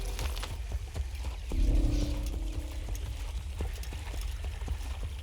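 Hooves of a horse in Assassin's Creed clop in a quick irregular rhythm under a low game ambience, moderately quiet, with a brief louder swell midway and no talk.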